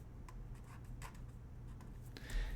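Marker or chalk writing an equation on a classroom board during a physics lecture on Faraday's law, heard as a few faint, short scratchy strokes spaced irregularly over a low room hum, with no talking.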